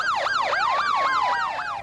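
Police sirens wail in rapid rising and falling sweeps during a riot on Venice Beach, loud and near, with several overlapping tones cycling continuously.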